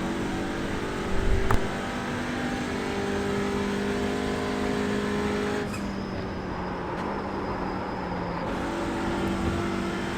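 An Audi RS3 race car engine in iRacing at Suzuka drones steadily at high revs, with brief dips and shifts as the car runs on higher fuel, continuous and fairly loud with no talk.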